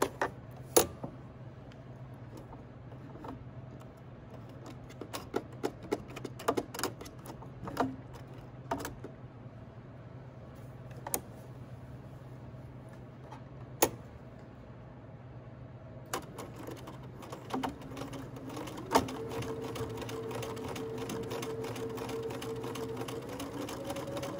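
A sewing machine stitching a pocket onto a hoodie, sounding as short, near bursts of mechanical whirring and ticking between pauses over a quiet background hum, then a longer steadier run near the end.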